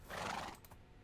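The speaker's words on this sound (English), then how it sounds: "This is my horse." A horse in the Minecraft video game gives a short, faint whinny lasting about half a second, followed by a couple of soft clicks.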